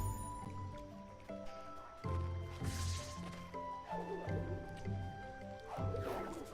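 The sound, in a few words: character's hurt sound in video game Ori and the Blind Forest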